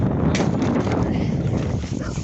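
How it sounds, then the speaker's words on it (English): Wind blowing outdoors during a bike ride, a loud broadband rush buffeting the microphone steadily throughout. "It's starting to get windy out here."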